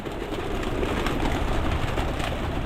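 Pigeons coo softly and continuously over a dense, steady background rumble, with no talking.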